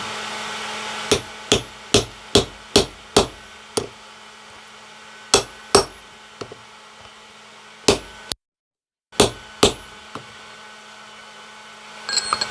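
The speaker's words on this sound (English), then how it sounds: "So I'm just going to take this chisel here, try to split these forks apart." Hammer strikes on a steel chisel driven into hot forged steel forks at a forge anvil, about a dozen sharp metallic blows in quick rhythmic bursts with short pauses, close and loud, no talking.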